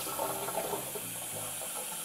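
Water poured from a measuring cup toward a pot while making mac and cheese, a steady splashing pour of about two seconds at close range, with no talk over it.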